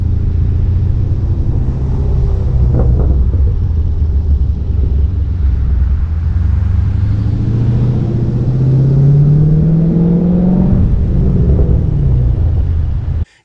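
A Dodge 392 Scat Pack V8 in sport mode rumbles deeply through its exhaust, heard from inside the car, with a low steady drone that swells as the engine revs climb smoothly, loud and continuous before cutting off at the end.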